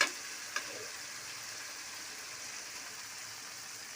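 Prawns fry in a pan with tomatoes for a drumstick prawn curry, giving a soft, steady sizzle with a couple of faint stirring clicks near the start, quiet and with no talk.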